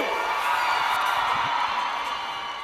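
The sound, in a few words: crowd screaming and cheering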